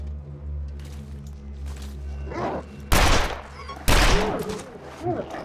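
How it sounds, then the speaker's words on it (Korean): Revolver gunshots fire in a video game, two loud sharp cracks about a second apart over a low ambient hum, followed by fainter scuffling movement sounds. "총소리 듣고 도망간다"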